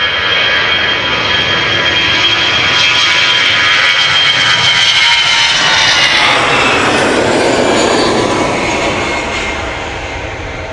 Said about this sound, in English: This is Cathay Pacific cargo 7478 arriving from Dubai